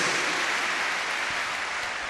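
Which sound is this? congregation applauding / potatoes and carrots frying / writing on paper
congregation applauding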